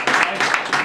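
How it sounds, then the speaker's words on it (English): A Scouts audience applauds Kimberly with a brief, loud burst of clapping that pulses in short, rhythmic swells, close and lively. "Let's give her a round of applause."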